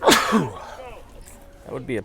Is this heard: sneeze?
yes